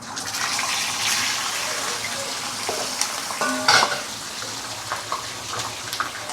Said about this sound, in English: when you reach smoking point, which is about 180 degrees Celsius, you can actually slowly put in your fish